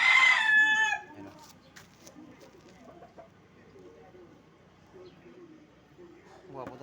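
A rooster gives one loud, close crow in the first second, then the scene falls to quiet low background noise with faint clucks and stirrings.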